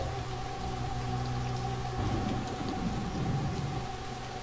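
Steady rain patters densely on a surface on a rainy night, a continuous full hiss with a faint low rumble swelling partway through.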